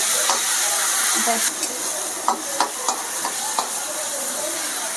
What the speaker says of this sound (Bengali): আদা রসুন বাটাটা দিয়ে একটু কষাবো